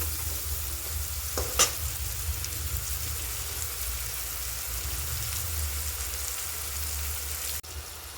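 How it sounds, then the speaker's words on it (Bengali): Pointed gourd (potol) fries on a high flame with a soft, even sizzle that stays fairly faint. One sharp clink of a utensil stands out early on. "এটাকে এবার আমরা একটু কিছুক্ষণ ভাজবো হাই ফ্লেমে।"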